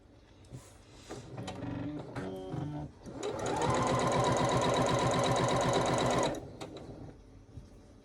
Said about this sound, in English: So right sides together, we're sewing corner to corner right down the middle of the green.